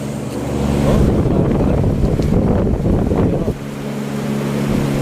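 An Iwata evaporative air cooler fan spinning up after repair, a loud, close, steady whooshing airflow rush that holds for several seconds and then settles slightly.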